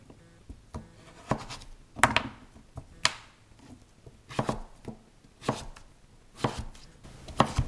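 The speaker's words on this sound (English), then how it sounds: "Stand it up on the bigger flat surface and cut it into planks. Then cut it into sticks." A knife cuts butternut squash into planks and sticks on a cutting board: a series of crisp, close chops with uneven pauses, each blade strike thudding lightly onto the board.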